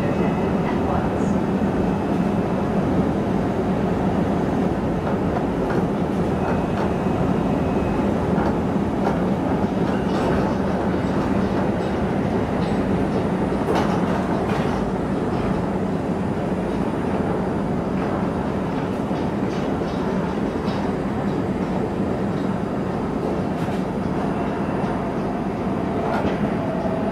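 Train running between stations, a steady loud rumble of the carriage with rail noise and occasional clicks and squeals throughout, heard from inside the car with no one speaking.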